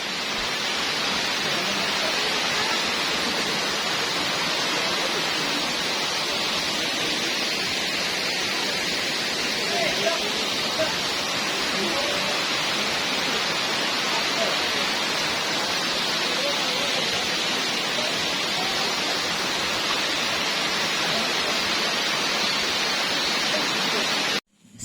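Putri waterfall at Tahura Sultan Adam in Indonesia pours in a loud, steady, hissing roar of falling water that stays constant throughout.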